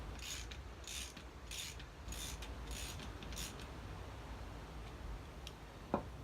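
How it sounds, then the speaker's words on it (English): A 17mm socket ratchet tightens the fork top cap on a Honda CG125 motorcycle, giving a series of quiet, close clicking ratchet strokes in short bursts, then a single sharper knock near the end. "So I can get the 17mm socket again. Tighten that down."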